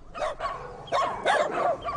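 Several dogs bark in short bursts, a few sharp yips overlapping in an uneven rhythm, fairly close and loud.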